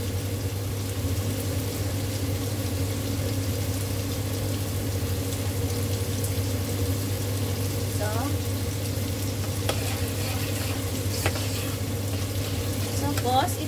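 Kalbs pan-frying in a pan sizzle in a steady, close, continuous crackle, with a few faint clinks and scrapes over the hiss.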